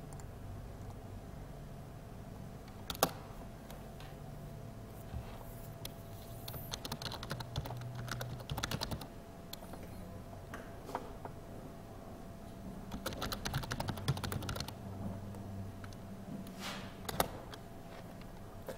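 Computer keyboard typing runs in irregular bursts of clicks with brief pauses, close and moderately quiet, during text entry in animation software, with no talk.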